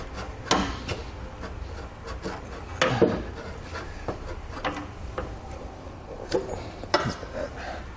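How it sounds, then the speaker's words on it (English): A pry bar working car exhaust hangers loose under a 2018 Kia Niro near the rear axle, with scattered metallic knocks, scrapes and clanks at close range. "I'm just going to pry off the exhaust hangers."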